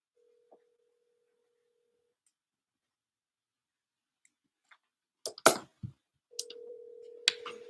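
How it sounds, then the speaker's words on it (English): A telephone call being placed: a steady dial tone at the start, then a few faint clicks and brief key tones, louder handling clicks, and a ringback-like tone in the last seconds, with no talking. "So I'm going to give her a call, see if there's any interest."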